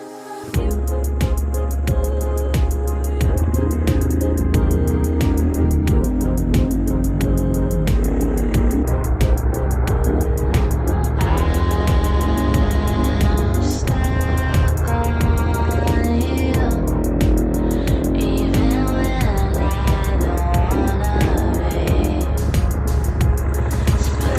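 An enduro motocross motorcycle rides a track, its engine a steady loud drone with rises and falls in pitch as it accelerates and shifts, close and continuous throughout with no talking.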